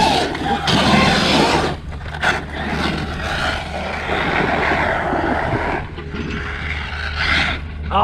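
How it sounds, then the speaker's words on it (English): Traxxas Mojave RC monster truck running hard with its gears grinding, a loud continuous whirring, scraping mechanical roar that rises and dips over several seconds, with excited voices talking over it. "we got gear grindage now"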